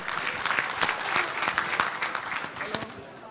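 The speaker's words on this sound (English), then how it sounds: "Please, can we clap for Gino?" An audience applauds at a post-budget business breakfast, a short burst of close clapping from a modest crowd, with a voice speaking over it.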